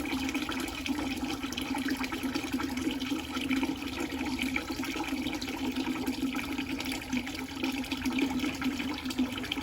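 Sanitizer draining out of a Carpigiani 1131 soft serve machine, a steady rushing, gurgling flow of liquid running continuously at moderate loudness with no talk.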